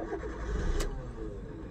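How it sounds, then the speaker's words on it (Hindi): A car engine starting up just after refuelling settles into a steady low rumble, with a brief sharp burst partway through. The sound is faint and close, and no one speaks. "गाड़ी स्टार्ट हो चुकी है हमारी"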